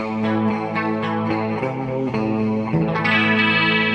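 Clean electric guitar played through a Valeton GP-200X clean amp patch with delay, reverb, light chorus and compression: sustained chords ring out with shimmering, echoing tails, changing chord near the end, played alone without voices.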